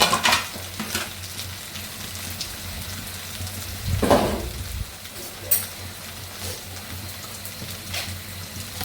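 Green chillies and onions fry in a pan with a steady low sizzle, broken by a louder surge of hissing and stirring near the middle and a few scattered clinks.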